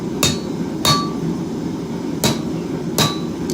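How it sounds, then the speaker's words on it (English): Cut-off tool chopping a chunk off metal stock in a workshop, four sharp metallic strikes spaced irregularly over a low steady background hum, close and without talk. "We're going to take it to the cut-off tool."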